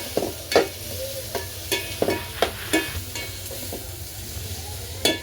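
A mango, okra and fish curry is stirred in a pan over a wood-fired village stove: sharp scraping strokes in an irregular rhythm over a low sizzle, fading to quieter simmering toward the end.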